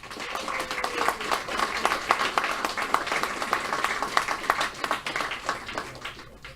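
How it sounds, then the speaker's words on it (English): Dense, steady applause from a sizable crowd, many hands clapping at once in a continuous wash that holds for several seconds. "let's give a really big round of applause for Bandura."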